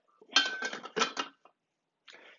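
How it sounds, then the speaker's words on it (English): Chopped walnuts scraped and tipped back into a bowl for an Estonian kringle, giving a few short clattery bursts of pieces and utensil against the bowl, close and fairly quiet, separated by silence. "we're now going to transfer our chopped walnuts back into our bowl"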